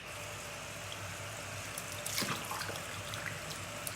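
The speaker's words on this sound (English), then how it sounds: "I'm just putting some water in here and swirling that around to get all of that extra product out" Water poured into a container and swirled while washing dirty makeup brushes with tea tree soap, a faint steady trickle with a brief splashier burst midway.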